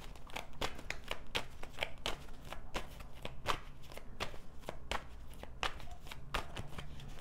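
Rapid, crisp riffling and snapping of tarot cards being shuffled up close, in repeated bursts with short pauses, no voices.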